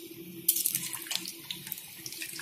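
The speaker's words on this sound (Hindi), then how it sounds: "अब पैन में थोड़ा तेल ले लेंगे, तेल गर्म कर लेंगे और अब इसे एक एक करके इसमें डालेंगे।" Litti dough balls drop one by one into hot oil in a pan, setting off a steady, close sizzling hiss with scattered crackles that swells after the first ball goes in and keeps frying, with no talk.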